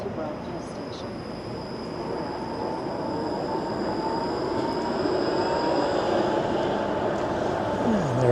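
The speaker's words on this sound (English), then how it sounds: "Let's wait for this streetcar to move out of the way." A Toronto streetcar moves along Queen Street, a continuous rolling rumble with rail noise and a faint high whine that grows slightly louder toward the end, heard from the street nearby.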